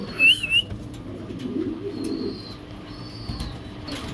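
Racer pigeons at a market stall for domestic and foreign breeds give soft coos and whistle-like calls, loudest near the start and then fainter over a low background hum, with no talking.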